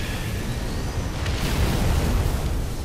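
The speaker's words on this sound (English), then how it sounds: "Ooh, pretty pink explosion." An explosion in Halo 3 on Legendary, part of the Sierra 117 mission, comes as a loud, sustained roaring rumble with a brief crack partway through.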